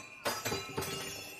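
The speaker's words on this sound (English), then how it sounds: "there's people yelling and smashing stuff in the alley?" Glass smashing in an alley, heard as three sharp, crashing impacts in quick succession, each followed by a brief scattering rattle, moderately distant and fairly quiet.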